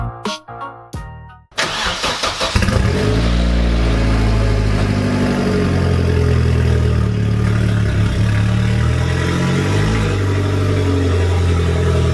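A Vauxhall Corsa's turbocharged Z20LET engine cranks and starts, then runs steadily with low rumbling and slight revving as it drives into a garage, close and loud throughout.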